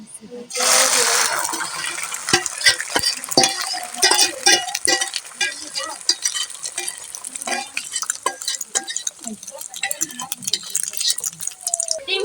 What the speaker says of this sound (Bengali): এখানে দুটো ডিম নিয়েছি ওগুলো আমরা পেঁয়াজ দিয়ে ভাজবো